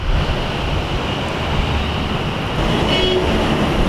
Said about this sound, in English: and busy late afternoon traffic.